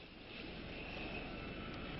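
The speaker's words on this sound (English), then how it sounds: "In the air, as planes made passes to photograph missile installations despite Cuban anti-aircraft." Military surveillance planes make passes overhead to photograph missile installations in Cuba, a steady, continuous engine roar that stays broad and even for the whole stretch.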